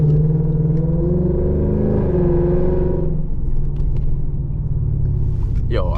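A Lexus RCF with an FBO exhaust drives, a loud, deep rumbling engine drone that rises and falls as it moves, with a brief high squeal near the end.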